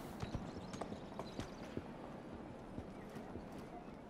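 Horse hooves clop in a quick galloping rhythm in the video game Assassin's Creed Syndicate, moderately distant, with a brief whinny and faint voices underneath.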